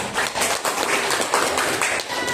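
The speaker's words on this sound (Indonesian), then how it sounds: "Beri tepuk tangan untuk temannya" Classmates applaud a presenting group in a classroom, a close, steady burst of many hands clapping that fills the whole moment with no pause.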